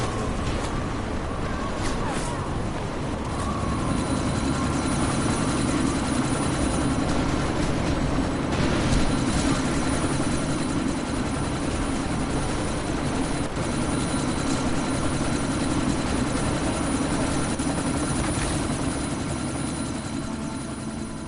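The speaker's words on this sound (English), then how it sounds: "you need to disable that chopper" A helicopter hovers in Deus Ex: Mankind Divided amid a sandstorm, a loud, continuous rotor and engine roar with rapid blade chop that holds steady throughout.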